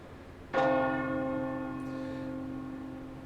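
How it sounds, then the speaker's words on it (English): A single church bell tolls once in a fantasy siege game, striking sharply and then ringing out in a long, slowly fading hum of steady tones, alone and fairly loud. "And then you hear the bell once again."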